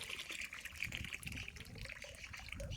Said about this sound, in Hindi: नल से तो अपने आप ही पानी निकल रहा है